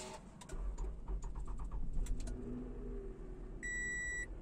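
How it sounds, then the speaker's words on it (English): A keyless 2013 Toyota Camry with a V6 engine starting, a brief chime and clicks followed by a low engine rumble settling into a steady idle, with a beep tone near the end. "Let's start the vehicle and see."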